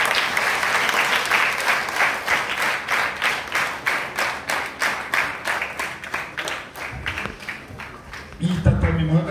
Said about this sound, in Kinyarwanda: mwiha amashyi menshi cyane